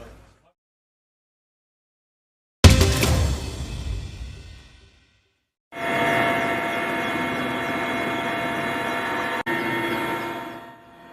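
A police and gendarmerie helicopter flies over a holiday traffic inspection in Denizli, Turkey, its rotor and engine roar sustained and fairly loud, following a burst of louder wind and rumble and a short gap of silence.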